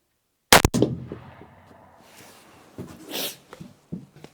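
A single sharp rifle test shot at a 400-metre range cracks out, followed by quieter rustling and handling noises and some faint scattered clicks.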